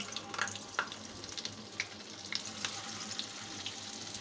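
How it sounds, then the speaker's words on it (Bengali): Quiet, steady sizzling of puffed-rice sweets frying in hot oil in a wok, with occasional soft pops and crackles scattered throughout. "এইবার আমি তেলে ভেজে নেব কড়াইয়ের মধ্যে তেলটা ভালোভাবে গরম হয়ে গিয়েছে"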